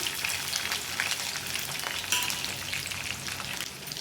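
Chopped onions and green chillies frying in oil in a pan for chicken sherva, a steady, dense hiss of sizzling that holds evenly throughout with no voices.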